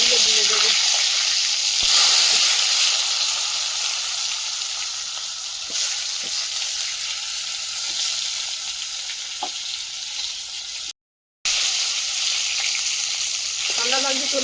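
Eggplant (brinjal) pieces fry loudly in a hot pan with a dense, continuous sizzle and occasional stirring clicks. The sound drops out for a brief moment, then resumes at full strength.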